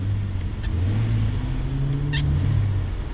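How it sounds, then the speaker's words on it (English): A 2016 Ford Expedition King Ranch with a twin-turbo V6 idles and revs gently, a steady low engine drone with a rising and falling pitch, heard close and moderately loud, with a couple of brief high hiss bursts. "So all right, we have that twin turbo V6."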